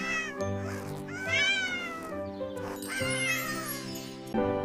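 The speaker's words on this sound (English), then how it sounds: "Ow, this kitten is so tiny." A tiny kitten meows repeatedly, several rising and falling cries up close, loud and clear with short pauses between them and no talk.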